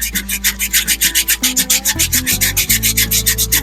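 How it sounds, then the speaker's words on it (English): Rhythmic back-and-forth rasp of sandpaper on a wooden stock for a custom HW95 air rifle, worked with the grain, about twenty quick close strokes over steady background music, no talking. "notice I've gone back to sanding with the grain."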